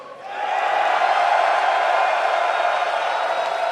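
An esports arena crowd in Dallas at IEM Dallas 2023 roars in cheering for the team Heroic, a loud sustained wash of voices that swells quickly and holds steady.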